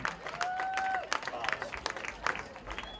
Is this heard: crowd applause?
yes